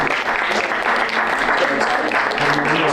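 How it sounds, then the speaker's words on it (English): Audience applauding at an evening peace symposium, a dense steady wash of clapping held at even loudness for a few seconds, with some faint voices mixed in. "So can we give a big round of applause for the organisation?"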